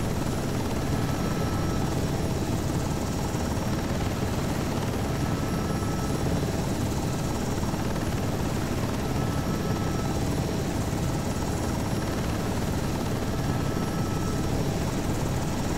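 Loud, continuous thumping roar of a UH-60 Black Hawk military helicopter's rotor and engine in Microsoft Flight Simulator, steady throughout with no voices.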